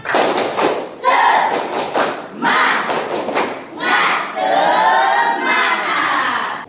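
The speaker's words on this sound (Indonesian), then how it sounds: "Tepuk semangat." A classroom of Indonesian students doing a patterned spirit clap, bursts of sharp rhythmic claps alternating with shouted group chanting, close and loud.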